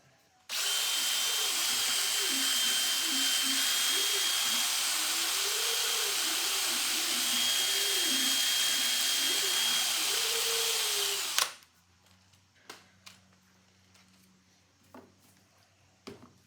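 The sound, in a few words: flex hone cleaning burrs inside Edison crank mechanism casting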